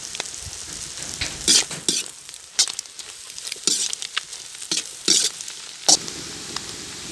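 Vegetables being stir-fried for chicken manchurian in a clay pot over a village cooking fire: a steady sizzle broken by repeated scraping strokes of the stirring utensil, close and fairly loud, with no talking.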